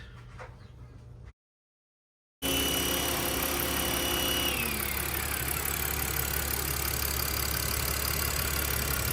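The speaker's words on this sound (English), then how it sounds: "Nice, we got the pressure washer working again" A pressure washer cleaning an abandoned 2004 BMW 325ci E46 drones steadily and loudly after a short burst of noise and a sudden second of silence, running without pause to the end.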